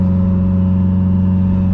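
A Subaru engine drones loudly and steadily up close while driving with the exhaust dump open, a deep, even rumble with no break.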